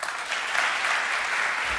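Dense, even applause fills a conference hall at a Norwegian television industry summit, a continuous wash of many hands clapping at a moderate distance.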